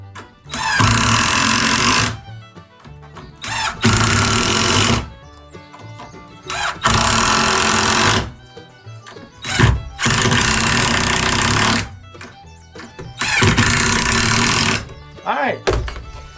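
Repeated bursts from a power drill sink the last screws into wooden cross braces on a build station, five loud near runs of about two seconds each separated by short gaps with handling clunks.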